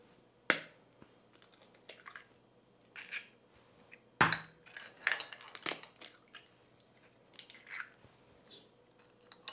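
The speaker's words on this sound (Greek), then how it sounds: "Σπάμε τα αυγά." Eggs cracked into a bowl for a quick zucchini pie: a few sharp, close cracks and taps spaced across several seconds, followed by softer clinks and shell sounds, with no talking.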